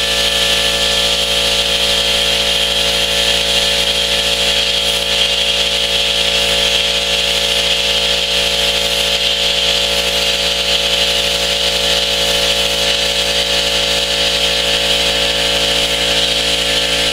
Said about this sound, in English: my freehand plasma cutting technique leaves a little bit to be desired